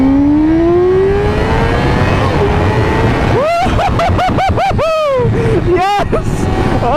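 A 2017 Yamaha R6 motorcycle accelerating hard on a highway in A mode: a loud, close engine whine climbs steadily, then breaks into rapid rising and falling rev sweeps over constant wind roar.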